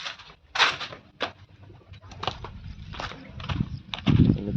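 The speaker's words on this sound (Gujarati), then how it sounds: "થોડું કબૂતર આવ્યું છે આપણી વાડીએ." Pigeons flutter and coo nearby on a farm in scattered bursts, with sharp wing claps and soft scuffling sounds breaking in irregularly.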